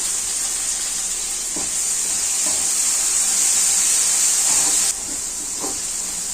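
Finely chopped tomatoes sauté in a pan for semiya kichadi, making a loud, continuous hissing sizzle with a few faint stirring knocks. The hiss drops a little partway through, and no one speaks.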